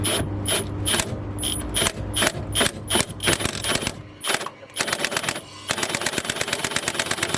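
A power tool on its lowest setting slowly drives in a brake insert during a big brake kit conversion on a Lexus IS300. The close, loud ratcheting whirs come in rapid bursts, pausing briefly, then run steadily near the end.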